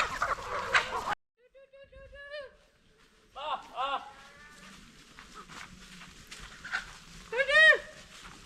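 Free-range native country chickens, brooding hens raising chicks, make intermittent clucks and higher calls near the camera. A brief loud squawk opens the clip and a louder burst comes near the end.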